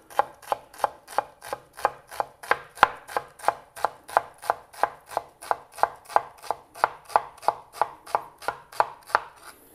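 A freshly sharpened knife chops an onion on a cutting board in a fast, even rhythm of crisp knocks, about two to three per second, close and clear with no talking.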